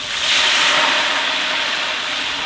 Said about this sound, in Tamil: இப்போ தண்ணியை ஊற்றிக்குவோம்.